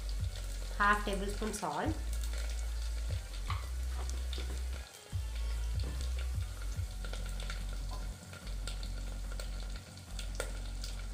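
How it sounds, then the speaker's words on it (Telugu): Prawns sizzle and fry steadily in a pot for a simple prawn biryani, with stirring scrapes and clinks throughout and a brief spoken phrase near the start. "ఇది కొంచెం వేగనివ్వాలి."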